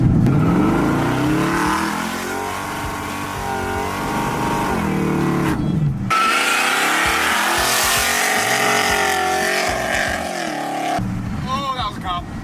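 Supercharged car accelerating hard with a loud, rising blower whine and engine roar, rough and close, first as a kickdown then again after a brief drop around six seconds, with people talking over it.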